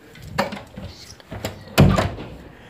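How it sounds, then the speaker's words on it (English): Doors in a house are pushed shut, giving a few soft knocks and thumps followed by one heavier, louder close near the end. "Close the doors."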